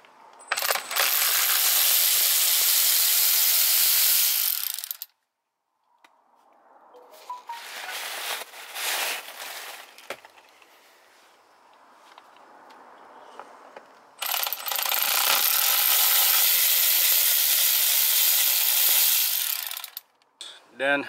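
A T30 bolt is unscrewed from a wrecked Tesla P85D, with two long bursts of loud, close, dense metallic ratcheting separated by quieter handling clatter and clicks.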